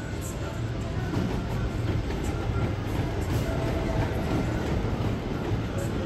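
A loud, steady rumble of a roller coaster train rolling on track at Worlds of Fun, front row, with a continuous roar and faint clattering throughout.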